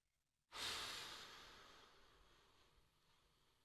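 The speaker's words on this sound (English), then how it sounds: "Deep breath in." A single deep breath in, drawn sharply then tapering off slowly over about three seconds, close and clear with no talking.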